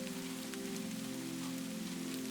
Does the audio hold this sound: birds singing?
no